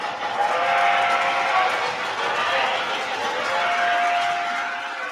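A train runs steadily on rails, a continuous rumbling roll with metallic squeal and faint tonal whine, close and unbroken throughout.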